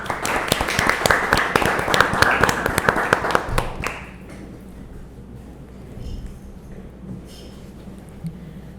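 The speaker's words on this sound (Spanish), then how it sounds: "Recibamos con un fuerte aplauso" An audience gives a burst of lively applause to welcome guests to an event on firefighting, loud and dense for about four seconds before it thins out and dies away into quiet room tone.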